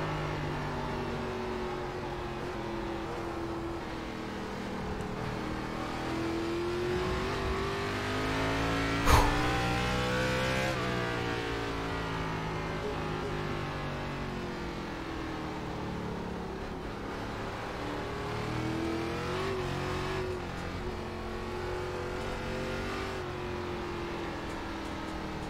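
ARCA Menards race car lapping the Charlotte Roval road course in iRacing: a steady engine note rising and falling through gear changes and corners, with one brief sharp click partway through and a continuous drone under it.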